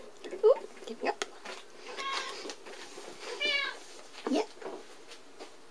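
Several little kittens mewing in short, thin, high cries scattered over a few seconds, close by, with a person speaking softly among them.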